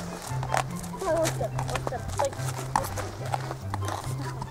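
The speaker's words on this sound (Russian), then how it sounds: "Это моя лошадь." A horse shifts about nearby, hooves clopping irregularly with occasional snorts, while people talk over it.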